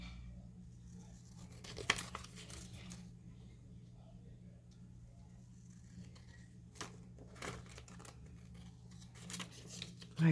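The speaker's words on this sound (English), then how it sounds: "I really need to clean these scissors" A crafter snips paper with scissors while assembling a nature-themed journal, making several quick, faint cutting crunches and rustles spread through a quiet room, with a low steady hum underneath and some soft talking.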